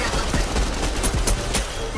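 Rapid assault rifle fire in Fortnite, a dense continuous volley of close shots over a steady game background, with no speech.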